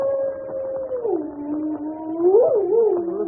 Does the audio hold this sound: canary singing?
no